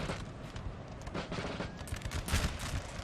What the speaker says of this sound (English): He has got one artillery piece there, which obviously is going to hit my men with canister